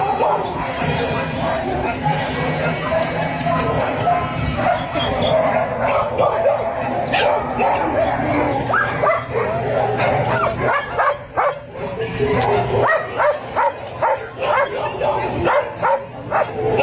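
A dog in a played-back video barks, yips and whimpers in an excited, uneven burst of yelps and whines, with people's voices mixed in underneath.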